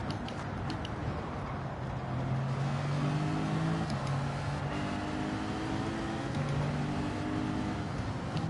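A GT4-class race car in Gran Turismo 7 online lobby racing drones steadily while warming its tyres, the engine note rising and shifting in pitch alongside other car engines, with no talking.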